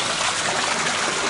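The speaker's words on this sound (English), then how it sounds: "the water used to go down a grate there, but now it goes down this channel drain" Water trickles steadily into a channel drain beside a hydraulic ram pump installation, a continuous close, moderately loud wash with no pauses and no voices.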